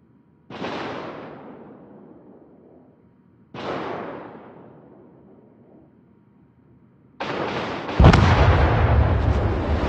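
Broadside gunfire from a warship in World of Warships, three heavy booming salvos spaced a few seconds apart, each with a rumbling decay, the last followed by a louder sustained blast and roar, with no talk.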